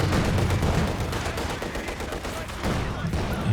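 Machine gun fire in Company of Heroes 2, a 4v4 match, rattling steadily throughout amid dense battle noise, with other gunfire and low rumbles mixed in.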